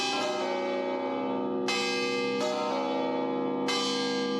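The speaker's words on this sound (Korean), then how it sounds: "드디어 종이 울린다." Church bells ring in the bell chamber of the Pisa bell tower, where seven bells hang. The peals are loud, close and sustained, with fresh strikes arriving at intervals over the layered ringing.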